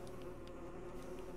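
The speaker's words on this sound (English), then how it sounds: "I hit my head on a bee!" A faint, steady insect-like buzzing from a flying creature in the video game Metroid Prime Remastered, a low droning hum that holds constant with no voices over it.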